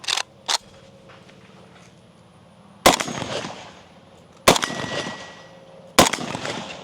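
An FB Radom Mini Beryl rifle fitted with a J-Mac 360 muzzle brake fires three loud, sharp shots spaced about one and a half seconds apart, each ringing out and decaying, after two faint clicks at the start.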